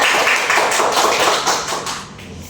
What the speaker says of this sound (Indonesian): Kita beri aplaus buat Dwi karena sudah bertanya